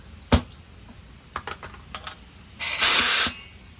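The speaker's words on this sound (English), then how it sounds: "Now let's try an air tool. This is an air grinder." An air grinder runs off a 6.3-gallon oil-free air compressor, giving a sharp pneumatic hiss burst under a second long after a few clicks and handling taps, loud and close.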